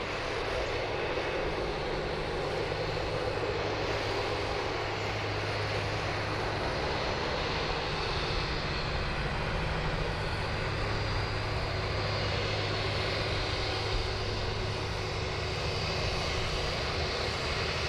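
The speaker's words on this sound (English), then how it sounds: "Here's another Jetstar outbound, wearing the revised livery and the beautiful sharklets. Moving along here on taxiway Charlie." A Jetstar airliner with sharklet wingtips taxis outbound on a taxiway at Sydney Airport, producing a steady, broad jet engine roar that holds at a moderate distance throughout with no talking.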